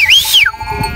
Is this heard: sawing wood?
no